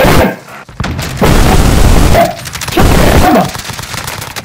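Gunfire in Call of Duty Modern Warfare (2019) erupts in loud, dense bursts of rapid shots and booming blasts, separated by brief lulls, close and overwhelming with no speech over it.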